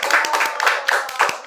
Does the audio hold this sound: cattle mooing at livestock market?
no